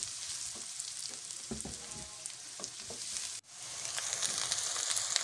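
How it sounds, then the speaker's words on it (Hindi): Onions frying in a pan for chicken karahi, a steady close hiss and sizzle with occasional stirring scrapes and a brief break partway through, no talking. "अनियन शामिल करने के बाद हम उसे लाइट ब्राउन होने देंगे"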